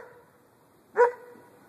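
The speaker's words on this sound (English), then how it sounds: "Who are you barking at?" A single sharp dog bark, fairly close, stands out against a quiet background with a faint low hum.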